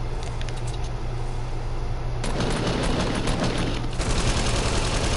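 A minigun fires in a video game, a fast continuous rattle of shots that intensifies midway and runs loud and unbroken for several seconds.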